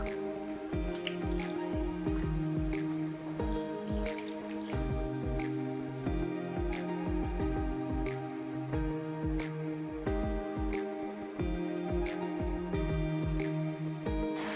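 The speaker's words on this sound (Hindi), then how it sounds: "बिल्कुल हल्के स्पैचुला से कर लें, हल्के हाथ से कर लें इसकी मिक्सिंग, ताकि कुछ टूटे ना।" A spatula gently folds Doodh Dulari, a milk-based dessert, making soft wet squishes and drips in an irregular rhythm, close up, with a steady background tone and no talking.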